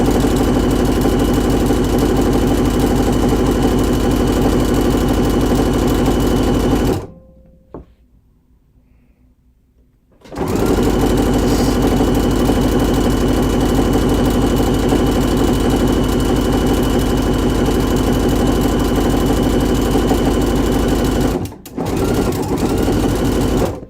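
A regular domestic sewing machine runs steadily, stitching knit fabric with ribbing, loud and close, pausing briefly midway before resuming its even whirring hum.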